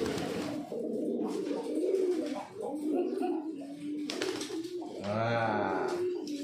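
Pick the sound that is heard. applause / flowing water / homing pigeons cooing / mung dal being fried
homing pigeons cooing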